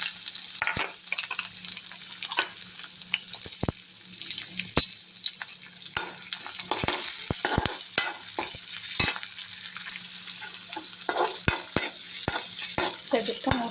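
Mustard seeds and garlic fry in hot oil for a tamarind pickle, giving a soft continuous sizzle broken by sharp crackling pops and the clatter of a stirring spoon against the pan, close and without speech.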